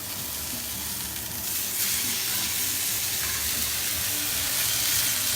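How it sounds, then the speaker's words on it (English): A beef steak sears in a hot pan for a French dip sandwich, giving a loud, steady hissing sizzle that swells slightly partway through, with no voices over it. "But you want to make sure all sides are seared."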